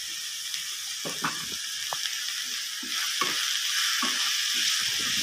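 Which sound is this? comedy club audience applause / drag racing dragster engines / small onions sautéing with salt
small onions sautéing with salt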